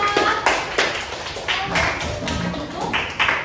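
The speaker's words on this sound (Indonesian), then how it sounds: "boleh tepuk tangan untuk kelompok 4" A classroom audience of students claps for a presenting group, a bright burst of many hands with uneven rhythm and repeated swells, close and loud.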